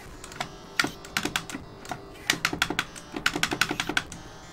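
Plastic buttons on a retro arcade plug-and-play console are pressed in quick, loud, clacky bursts, irregular clusters of sharp taps close to the mic with brief pauses between.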